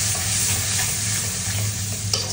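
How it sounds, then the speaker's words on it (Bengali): Ginger and garlic paste fries in hot oil while being stirred, a steady close sizzle running throughout with soft scraping of the stirring, and one sharper clink near the end. "আদা রসুন কাঁচা পেস্টটা আপনি যদি তেলের সাথে একটু নেড়ে নেন"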